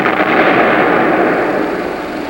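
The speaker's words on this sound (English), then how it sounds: "the firing system is about to be detonated" A demolition charge detonates to destroy a bridge during a military combat patrol raid, a loud sustained roaring blast that rumbles and slowly fades over a couple of seconds.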